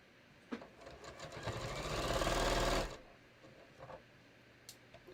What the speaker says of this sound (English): Careful you're not sewing through both your front and back layer.